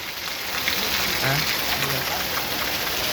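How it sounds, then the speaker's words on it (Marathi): Heavy cloudburst rain pounds steadily on a metal shed roof in Purna taluka, Parbhani district, a dense, continuous hiss and drumming with no pauses. "पत्राच्या शेडमध्ये सुद्धा पाणी मावना आतोनात पाऊस अतिवृष्टी"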